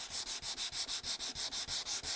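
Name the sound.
feather sanding a cherry wood table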